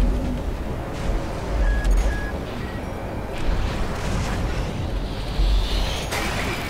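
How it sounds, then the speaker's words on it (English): Missile explosions in the Armored Core mech combat game: a steady wash of low rumbling booms and blasts rolls on under dense battle noise, with heavier thuds swelling now and then. "Ah, missiles!"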